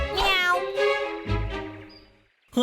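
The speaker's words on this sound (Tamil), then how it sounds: "ஏ ஃபெபியனு நீ ஒரு நல்ல பூனை குட்டி தானே" A cartoon cat in the animated series Bablu Dablu meows in a drawn-out, pitch-bending voice, two or three close, clear meows in quick succession, followed by a brief sharp sound at the end.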